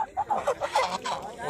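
Several geese honk in short, repeated nasal calls at close range, the bursts coming in quick succession as the birds stir from sleep.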